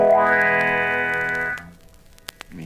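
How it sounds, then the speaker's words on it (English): An out-of-tune E chord on electric guitar sounds through a wah-wah pedal, a single sustained strum with a sweeping, effected tone that cuts off after about a second and a half, followed by faint clicks. "Now this is with the wah-wah, the same thing."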